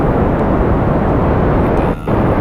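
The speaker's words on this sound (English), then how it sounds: "we are launching off at a pretty fast rate" Rocket engines roaring during a fast launch in Kerbal Space Program, a loud, steady broadband rumble that dips briefly near the end, with no voices.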